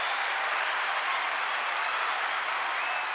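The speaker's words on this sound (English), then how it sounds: "A round of applause for this gentleman" Applause from a casual audience for a guest: an even, hissy wash of many hands clapping at once, steady and unbroken, sounding somewhat distant and soft, with no voices over it.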